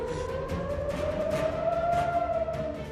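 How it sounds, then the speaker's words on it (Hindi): Air raid sirens wail across a wide area of Israel during Houthi missile attacks, a long rising tone with a second siren layered beneath, steady and loud, with no talking. "पूरे क्षेत्र में सिर्फ सुनाई दे रही थी सायरन की आवाजें"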